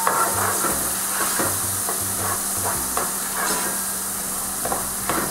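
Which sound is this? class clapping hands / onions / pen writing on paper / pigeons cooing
onions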